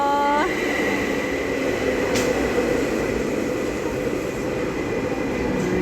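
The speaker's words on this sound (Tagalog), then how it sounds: "ito na yung tren na sasakyan ko papunta ng Helsinki ito" A train bound for Helsinki runs on a freezing day, filling the space with a steady, close rumble and hiss of wheels and air, opening with a short tonal chime and a faint click partway through.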